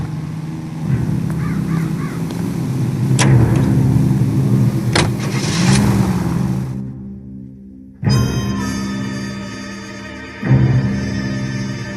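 A car engine in the LA Noire video game, heard from the driver's seat: a steady, fairly loud running rumble that shifts abruptly about two-thirds through, with another surge near the end.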